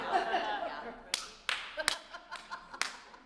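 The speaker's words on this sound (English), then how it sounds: "when choruses clap in a concert is we get very like aggressive with our clapping" Chorus members in rehearsal clap their hands gently, about seven soft, separate claps spaced unevenly after a moment of quiet murmuring.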